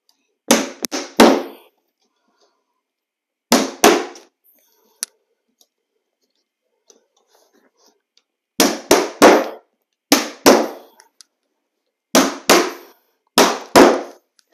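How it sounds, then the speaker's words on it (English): A hammer driving nails to set a carpet Z-bar transition strip, sharp close knocks in short bursts of two or three blows separated by quiet pauses, loud and with no talk. "Now I'm going to go ahead and hammer it in place"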